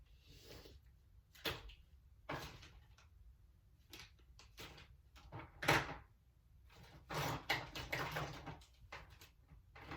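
A drawer full of lip products is handled during a makeup routine, with a series of close, irregular clattering knocks and sliding thumps as items shift and the drawer moves, fairly quiet and without talk.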